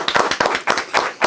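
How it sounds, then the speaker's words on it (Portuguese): Brief close applause on a live show, a handful of sharp, rhythmic hand claps from one or a few people lasting about a second. "Aplausos para Marcelinho!"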